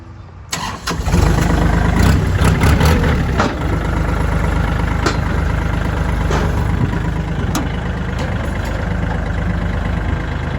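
A 2022 Kubota L4018SP tractor's diesel engine starts, then settles into a steady, loud idle that runs throughout with a constant low rumble and no talking.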